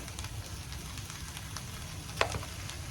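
Molake kallu sundal, a sprouted gram dish, stirred after a spoonful of salt goes in, giving a soft, steady scraping and light sizzle with a few faint spoon clicks and one sharper tap near the end.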